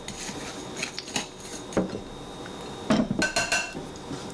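Chicken being tossed with granulated garlic in a bowl, heard as a handful of close metallic clinks and scrapes of a utensil against the bowl in short irregular bursts, with quiet gaps and no talking.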